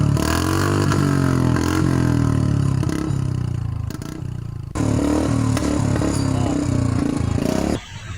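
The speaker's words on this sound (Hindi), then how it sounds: "बाइक्स पर साइलेंसर में से पटाखों वाली आवाज निकालकर लोगों को डराते रहते हैं" A loud modified motorcycle engine revs and idles close by, with sharp firecracker-like popping cracks from the exhaust backfiring between the throttle blips.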